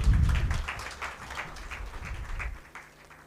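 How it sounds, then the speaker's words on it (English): An audience at a women's investment event applauds in a short burst of clapping. The clapping is strongest at the start, continues unevenly, and fades out over a few seconds. "A round of applause."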